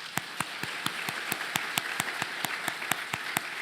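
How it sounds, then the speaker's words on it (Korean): Steady, evenly spaced claps in unison during a Sunday church service, about five per second, forming a rhythmic clapping that continues throughout at moderate volume. "우리 박수로 위로하도록 하겠습니다"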